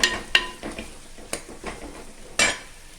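Onions sauté in a pan for a crab curry under a constant low sizzle, with a spoon scraping and clanking against the metal in several sharp, close strikes as the onions are stirred.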